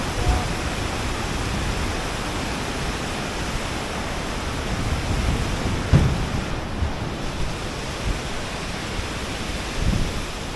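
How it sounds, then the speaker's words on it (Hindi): Water rushes down a mountain stream beside a trekking path in Himachal, passing under a small footbridge, a steady, loud, broadband roar that continues unbroken from start to finish. "ये ऊपर से पानी आ रहा है, इतना सुंदर पानी, आवाज़ आप सुन रहे हैं।"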